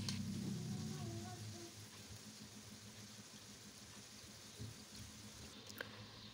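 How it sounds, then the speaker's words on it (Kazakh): Chopped onion and finely diced carrot frying in oil in a pan, a soft continuous sizzle with occasional stirring clinks, louder at first and then settling to a faint steady crackle. "Жақсылап қуырып аламыз."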